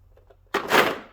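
A Snap-on tool chest drawer is pulled open in a single quick sliding thunk with a rattle of tools inside, loud after a near-silent start.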